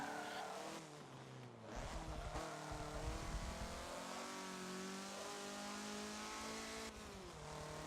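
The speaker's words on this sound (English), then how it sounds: "I've got a German car here, the Volkswagen, nice reliable German brand" A stock 1980s Volkswagen Rabbit hot hatch racing in Forza Motorsport 7, its engine revving and shifting through gears with rising and falling pitch, loud and close, with brief tire noise and no talk.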